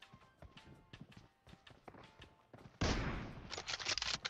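Gunshots in the mobile battle royale BGMI: quiet footsteps and scattered shots at first, then a sudden loud, sustained burst of automatic fire that fills the final second and a half.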